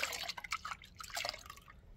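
Dawn dish soap pours into a container of thickened bubble-solution water, giving a brief run of wet drips and trickling splashes that fade out near the end.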